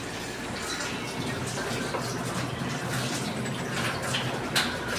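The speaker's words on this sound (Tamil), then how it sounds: "கழுவிக்க லைட்டாக கழுவு" Tap water runs in a steady splashing stream while raw chicken is washed in a home kitchen, with faint voices in the background.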